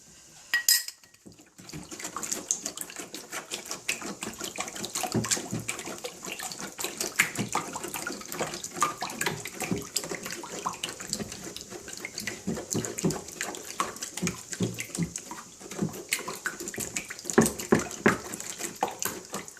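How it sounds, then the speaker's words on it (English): Tap water runs steadily into a sink while a cup is rinsed out, a continuous close splashing stream with light clinks of the cup against the basin, no voices. "Rinse the cup out"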